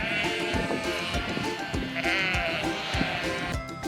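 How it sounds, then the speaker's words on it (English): Sheep bleating on a farm, several drawn-out baas overlapping one another, fairly close and steady throughout with no talking. "Sheep sound is called baa."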